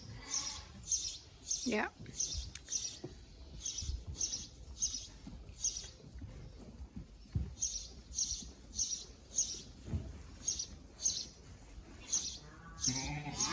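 Sheep bleat repeatedly inside a barn, several calls rising and overlapping, with birds chirping and a faint low engine hum from a tractor running just outside; a voice speaks briefly.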